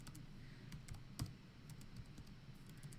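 Typing on a computer keyboard while filling in an online farm nitrogen tool: irregular, quiet, close key clicks and taps spread across a few seconds, with no voices.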